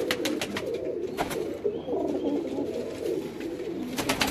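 A pure Kamagar pigeon coos up close in low, rolling repeated calls over a constant background murmur.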